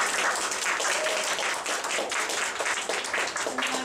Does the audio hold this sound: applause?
yes